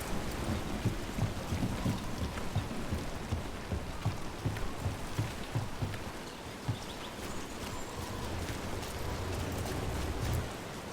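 Steady rain and low thunder rumbles in Dragon Age: The Veilguard, a dense, continuous wash of falling water with intermittent deeper rolls, no one talking over it.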